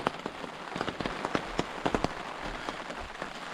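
Rain pattering on a tarp at a backcountry campsite on a long-distance trail, a steady close hiss of drops broken by sharper individual taps scattered throughout.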